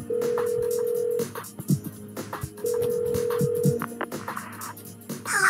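A phone call rings out in the video game Persona 4 Golden, with two long, steady electronic ringback tones separated by a pause and soft clicks and background game sounds underneath.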